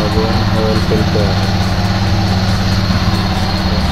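A Kawasaki Barako 2 175 motorcycle engine idling right after an oil change and new oil filter, a loud, close, steady putter with rhythmic pulsing and no pauses.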